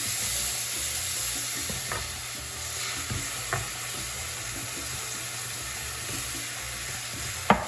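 Warm milk being stirred a little at a time into a cooked flour roux for chicken croquettes, a steady soft frying sizzle with faint scraping strokes and an occasional clink of the utensil, no talking.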